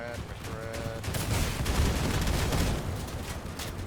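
Machine gun and cannon fire in the video game Crossout: a dense, continuous burst of rapid gunfire with heavy booming shots layered in, loud and sustained over several seconds.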